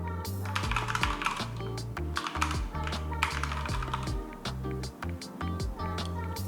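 Typing on a computer keyboard to enter commands in Windows, a close, fast run of clicking keystrokes with short pauses between bursts.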